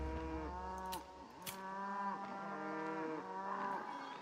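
Cows moo in a video game, several long, tonal lows close together and overlapping, with a few soft clicks between them and no voices.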